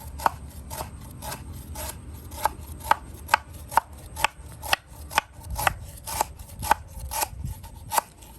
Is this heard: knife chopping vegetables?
yes